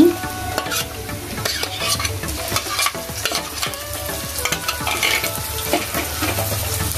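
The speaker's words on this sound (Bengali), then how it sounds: "এখন আমি আদা বাটা রসুন বাটা একসাথে রেখেছি ওটা দিয়ে দিচ্ছি" Ginger and garlic paste fries with onion in a pan for a katla fish curry, a constant close sizzle broken by frequent scraping stirs of a utensil.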